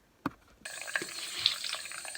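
Water runs from a bathroom tap, turned on with a brief knock and then flowing steadily and close by, used to dampen a makeup beauty blender sponge.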